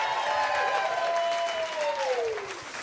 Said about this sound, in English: And a big round of applause for Madison Perry.